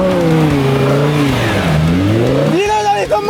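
A Ferrari V10 revs hard while driving through a field, its engine note sweeping up and down in loud, close, layered harmonics before a sharp rising blip near the end.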